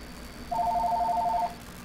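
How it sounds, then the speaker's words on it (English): Inside an old railway dining car, a telephone gives one burst of rapid electronic trilling, a fast repeated warble that lasts about a second. It is clear and fairly loud over a quiet room hum. "It's ringing again."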